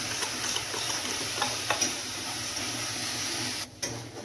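Drained curd (yogurt) being whisked in a bowl for a Bengali vegetarian doi paneer potol dish, a steady close scraping and stirring texture with soft ticks, continuing alone without talk.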